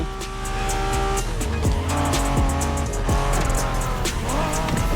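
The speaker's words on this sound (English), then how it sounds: "Are you familiar with the Honda you're driving?" Honda NSX from the 1990s driven in The Crew Motorfest, its engine note revving and shifting steadily with tire squeal over a continuous game music bed.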